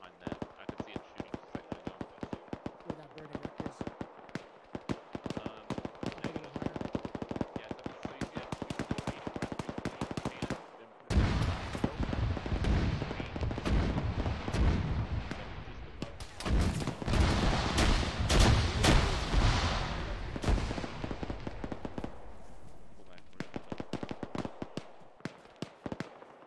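Rapid automatic fire from a vehicle shooting into the sky in ArmA 3, a long run of dense, crackling bursts that swells into a loud roar midway, with people talking over it.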